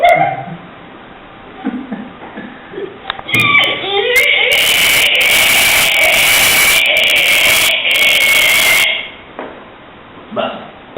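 A man imitates a pig vocally, building from low grunts into a long, loud, strained squeal lasting several seconds, then trailing off into quieter sounds, close to the listener.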